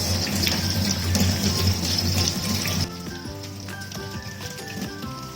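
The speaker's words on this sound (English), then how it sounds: "Run it under tap water and remove any excess dirt." Tap water runs steadily over a sweet potato being washed in a kitchen, a loud, hissing gush that drops to a quieter trickle and clatter partway through, with no talking.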